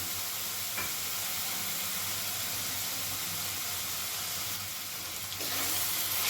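Gobindobhog rice frying in a pan with spices, a steady hiss with a faint sizzle that swells slightly near the end.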